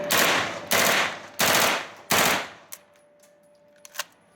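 An MP5 9mm submachine gun fires full-auto into ballistic gel, four loud sustained bursts back to back, each a dense rattling roar, then a few faint clicks and knocks.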